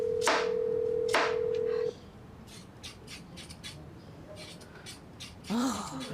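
A telephone call rings through to voicemail: a steady electronic tone with two sharp clicks sounds nearby for about two seconds, then gives way to quiet line hiss and faint rustling.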